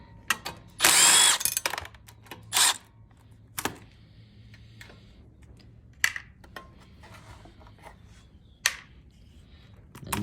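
Ratcheting socket wrench working 10mm bolts on the air filter housing of a Briggs and Stratton 5500 watt generator, a burst of quick close clicks followed by scattered sharp metallic taps and clunks against a quiet background.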